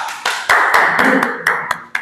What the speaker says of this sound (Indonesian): Oke, beri tepuk tangan untuk Siti Khadijah.